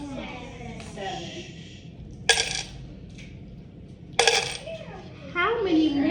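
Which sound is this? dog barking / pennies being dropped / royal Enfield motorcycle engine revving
pennies being dropped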